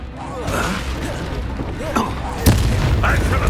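A spell cast in the video game Hogwarts Legacy, heard as a sharp magical burst in a fight, with a brief whoosh and a stronger impact about two-thirds through, over ongoing game combat sounds and voices.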